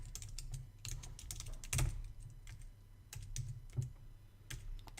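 A password is typed on a computer keyboard while connecting to an FTP hosting server, giving quiet, irregular clicks of keystrokes in short bursts with no talking.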